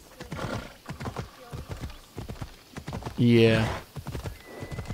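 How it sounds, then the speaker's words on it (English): Horse hooves clip-clop in a steady rhythm in the Assassin's Creed Odyssey video game, broken by one loud, close neigh partway through, with a brief spoken word over the hoofbeats. "Come here, steady horse."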